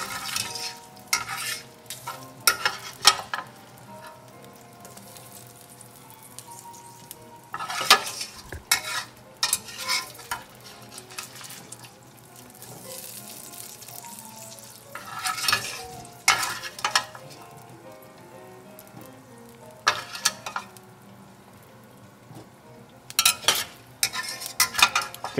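Sausage frying in an All-Clad LTD 5-quart pot, a soft continuous sizzle punctuated by bursts of spoon scraping and clatter against the pot every few seconds.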